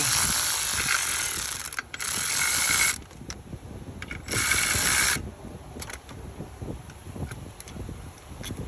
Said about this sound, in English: And remove the bolt.